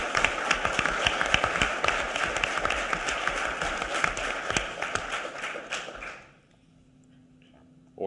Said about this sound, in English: Let's give them a big round of applause and welcome them to the stage.